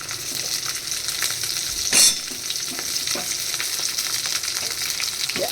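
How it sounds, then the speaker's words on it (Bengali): Four or five green chillies fry with onions in a pan, giving a steady close sizzle broken by stirring scrapes and one sharp metallic clink; no voices. "এবার এর মধ্যে দিয়ে দিচ্ছি আমি এই 4-5টা কাঁচা লঙ্কা"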